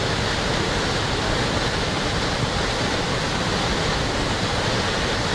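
River water rushing past a retaining wall, a loud, continuous broadband roar of fast-flowing water, steady throughout with no pauses and no talking.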